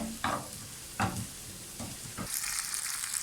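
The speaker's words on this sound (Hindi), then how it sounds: "1 मिनट तक हम इसको भूनेंगे कि अदरक और लहसुन में जो कच्चापन है वो ख़त्म हो जाए।" Ginger and garlic fry in a pan over a low flame, a close, soft sizzle with several scraping stirs early on before the sizzle brightens.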